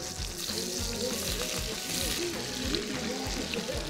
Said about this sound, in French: On va donc s'occuper de faire rissoler nos pommes de terre